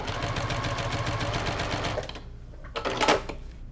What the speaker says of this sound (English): So before I start stitching over here, I'm going to test my stitch length.